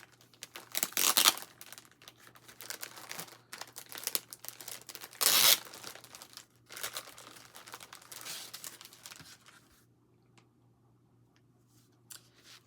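Old paper greeting cards, mostly get-well cards from a vintage thrift haul, are handled up close, with a run of papery crinkling, rustling and sliding, then a loud crumple, before the sound drops to near quiet.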